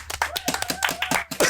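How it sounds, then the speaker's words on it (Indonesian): An audience claps for guest Opang at a casual talk session, with quick, uneven bursts of hand claps from a small group mixed with voices speaking over them, close and lively. "Tepuk tangan dulu buat Opang"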